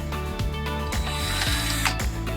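A power drill with a tile bit grinds steadily through marble, its pitch dipping in a repeating cycle roughly every half second as the bit bites in.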